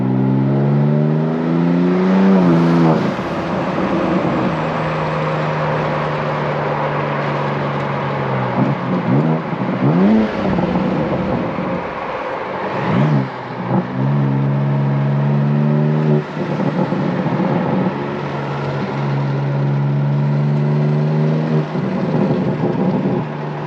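A car engine with aftermarket exhaust, downpipe and Valvetronic valves revs repeatedly, loud close-up pulls rising and falling in pitch between deep idling rumbles, with no talk over it.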